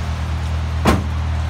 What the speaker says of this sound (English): Close the hood, I mean.